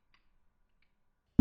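A single short, crisp mouse click lands at the very end after near silence.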